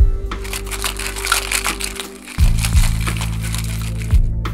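Ice cubes rattling hard in a cocktail shaker holding a tofu cocktail of aquafaba and red fermented bean curd, a loud continuous clatter with sharper knocks as the shaking gathers pace.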